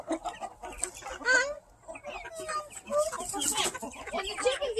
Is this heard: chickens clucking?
yes